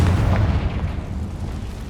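Confringo blasting spell from the Hogwarts Legacy video game erupts in a loud, rumbling explosion with a heavy low-end boom that stays dense and sustained for about two seconds.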